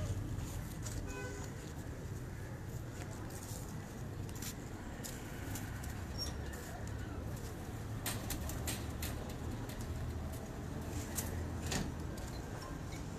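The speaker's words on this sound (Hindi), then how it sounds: "छत पर कबूतर सब उड़ने वाले" Pigeons on a rooftop coo softly and intermittently, faint against a steady background hum of distant traffic.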